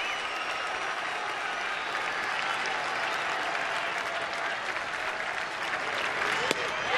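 A baseball stadium crowd roars in a loud, sustained wash of noise as fans stand during a tense at bat, with a commentator's voice faintly under it.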